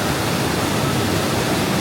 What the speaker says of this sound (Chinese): 室内有个巨型的瀑布，它每隔一段时间会放一次水